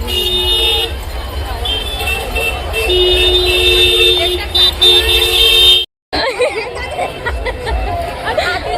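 Vehicle horns sound amid busy market traffic, with short and held toots over a constant din of crowd chatter and passing engines. The noise cuts out abruptly for a moment before resuming.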